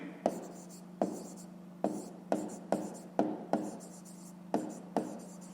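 A pen writes on paper during a fifth-grade maths exercise, working out a problem in kilometres: eight short, crisp strokes in a steady rhythm, close and quiet, with a faint low hum underneath.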